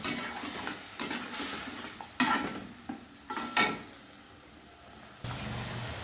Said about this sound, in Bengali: আবারও 3-4 মিনিট সময় নিয়ে মশলাটা খুব ভালোভাবে কষে নেব